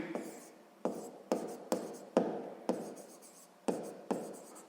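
Pen strokes writing out a sixth-grade math solution by hand on paper, a series of sharp scratchy onsets each trailing off, close and fairly quiet, with no voices.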